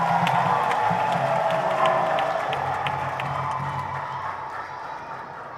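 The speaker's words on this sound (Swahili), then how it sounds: "Tuwapongeze kwa makofi makubwa." Big round of applause with some cheering from a Catholic parish congregation in Kinyerezi, Dar es Salaam, loud and steady throughout, fading slightly toward the end.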